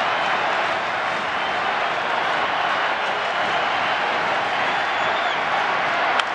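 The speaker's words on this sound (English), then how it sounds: "the crowd finally has a chance to make some noise." A packed baseball stadium crowd at a Rockies at Braves game makes a steady, wide roar of cheering and clapping, even in level throughout and heard from within the stands.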